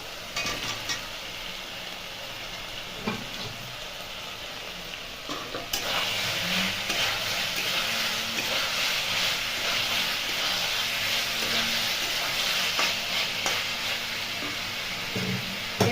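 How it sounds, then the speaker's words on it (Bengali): Cauliflower fries in spiced oil alongside half-boiled potatoes, starting as a quieter sizzle with stirring clinks. After a few seconds it jumps to a louder, dense hiss and crackle that holds steady, with occasional spatula scrapes. "এরপর এর মধ্যে আমি এই ফুলকপিটা দিয়ে একটু কষে নেবো।"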